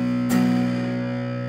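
Electric guitar played through a Boss DS-1 distortion pedal, a single strummed chord ringing out thick and saturated with sustained buzzy overtones, loud and alone.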